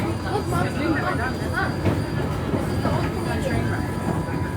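A trolley car rumbles and rattles along the rails at a trolley museum with a steady, loud roar and faint squeals, voices murmuring underneath.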